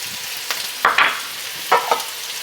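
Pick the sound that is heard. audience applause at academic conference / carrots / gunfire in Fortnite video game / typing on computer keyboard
carrots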